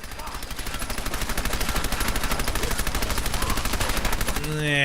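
Rapid automatic gunfire in the video game Fallout 4 Far Harbor: a dense, fast stream of shots that keeps building in volume, with a brief voice-like tone near the end.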